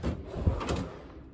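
A tool drawer in a workshop full of hammers and axes slides on its runners and bumps shut, one short close heard alone at moderate loudness.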